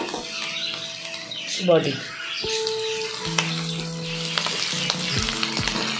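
Prawns frying in a pan with elephant foot yam and potato, a loud close sizzle with stirring and scraping sounds, while a person talks briefly over it.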